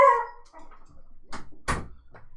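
A happy dog greets its owner arriving home with a short whine followed by a few sharp, excited yips and barks close by, separated by brief pauses.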